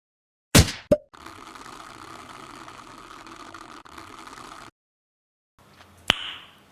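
AI-generated shotgun blast sound effect in a Unity video game: a sharp, loud bang and a quick second crack, then a stretch of steady mechanical noise and one more abrupt blast with a short tail. No speech.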